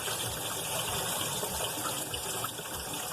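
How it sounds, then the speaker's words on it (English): Tap water runs steadily and loudly over fresh leeks being rinsed in a kitchen, a continuous gushing splash with no talking. "All those layers, you fan them as you've got running water on it."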